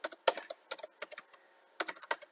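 Computer keyboard typing in short irregular bursts of crisp keystrokes with brief pauses, close and fairly quiet, while VBA code is entered in Excel; no voices.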